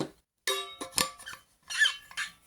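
A plastic water bottle squeaks in several sharp, close bursts separated by short silences, with no talking.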